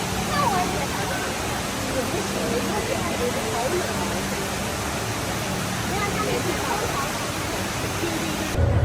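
Indoor waterfall at Singapore Changi Airport roars as a dense, constant wash of falling water, loud and unbroken, with faint crowd murmur blended underneath.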